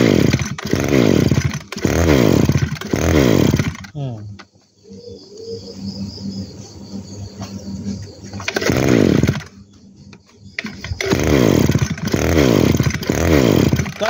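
A used Japanese lawn mower engine revs hard in loud, rising bursts, drops to a quieter idle for several seconds, then revs up again repeatedly.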